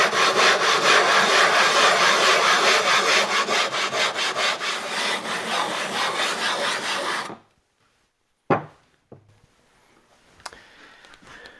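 A hand plane's sole is rubbed back and forth on an abrasive surface to flatten it, making steady rhythmic scraping strokes, loud and close, for about seven seconds before stopping, followed by a couple of faint clicks.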